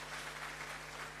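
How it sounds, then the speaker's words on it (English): Brief, faint round of clapping from an audience at a diplomatic heads-of-missions conference, an even patter with no voices over it. "Another round of applause."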